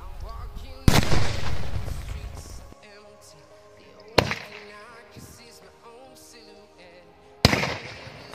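A sky shot firework launched from a borewell pipe goes off in three sharp, loud bursts spaced a few seconds apart, each followed by a fading crackle and rumble; a voice can be heard briefly in between.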